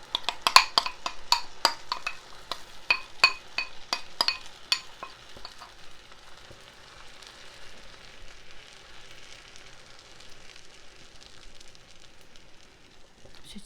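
Corn flour batter poured into a frying pan that is still cold, with a string of sharp close clatters and taps from a utensil against the pan in the first few seconds, then a soft steady hiss and faint scraping.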